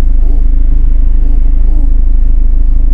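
A car driving along a road, seen from inside the cabin, a loud steady low engine and road rumble that fills the whole stretch without change.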